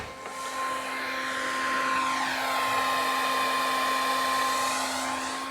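A cheap $20 hair dryer duct-taped in place blows steadily to dry a rinsed car part, a constant close whirring roar with a faint shift in tone partway through, no voices.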